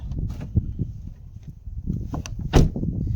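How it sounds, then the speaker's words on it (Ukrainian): A frozen door is forced open on a frosty evening, giving a few scraping, knocking sounds and one sharp crack-like burst near the end, close by and moderately loud. "Ага, ці двері відкрилися, а ті не відкриваються."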